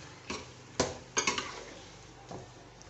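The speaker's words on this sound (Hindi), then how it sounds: "अब हम इसमें डाल देंगे अपना ये बैंगन, टमाटर, मिर्चे सब कुछ एक साथ डाल देंगे और चम्मच चला के मिक्स कर देंगे।" A metal spoon scrapes and knocks against a pot while eggplant, tomatoes and chillies are mixed together, a few soft clinks and taps spaced irregularly, faint and close, with no talking.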